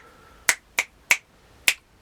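Four crisp finger clicks tap out a short rhythm, an uneven pattern of sharp close snaps with brief gaps, heard alone without talk.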